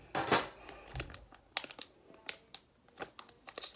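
Plastic packaging around a FNAF toy is torn open by hand: a loud crinkling rip at the start, then scattered rustles, crackles and small tears, close and alone without talk.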